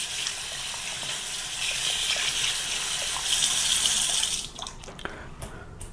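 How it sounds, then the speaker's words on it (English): Hot water runs from a tap fed by a ThermoMate 6.5 gallon electric water heater, a steady hissing gush for about four seconds before the flow cuts off, leaving a few faint drips and clicks. "See how fast we can get the hot water out."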